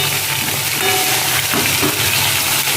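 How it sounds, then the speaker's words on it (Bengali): Potatoes and pointed gourd fry with spices in a pan, a steady close sizzle that runs unbroken with a few soft stirring scrapes and no talk. "আলু পটলগুলো মশলা দিয়ে কষিয়ে ভেজে"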